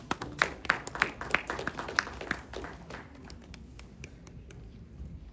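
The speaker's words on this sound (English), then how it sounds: "Let's give him a big round of applause." A small audience claps for an incoming speaker at a tech conference, a few distinct sharp claps at first that thin out and fade into quiet room tone.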